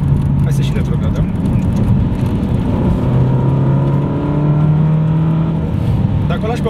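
A Ferrari California T engine rumbles and revs while downshifting, heard from the cabin as a loud low drone with rising and falling engine tones.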